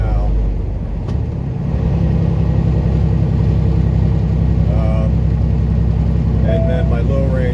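A truck engine limping toward Salt Lake City runs rough after a downshift into 8th gear, a loud, steady low drone with a grinding, uneven texture throughout and a few faint higher tones near the end.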